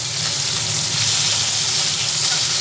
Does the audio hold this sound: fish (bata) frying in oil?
yes